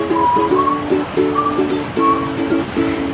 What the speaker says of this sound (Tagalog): Grabe, maulang maulan dito ngayon guys.